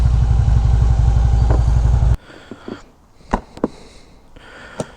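A bagger motorcycle's engine idles with a loud, steady chugging, then cuts off abruptly partway through, leaving quiet with a few clicks and clunks as the bike is parked.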